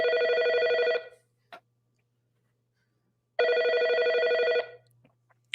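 Telephone ringing in two long electronic bursts, loud and close, separated by a pause of near silence with a brief click between.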